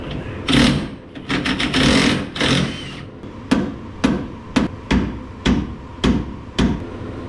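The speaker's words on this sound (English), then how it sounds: "break out the little snap-on impact, get her done" A small Snap-on impact wrench works on parts of a 1938 Plymouth truck during restoration, firing loud rattling hammering bursts in short repeated pulses, close up and alone.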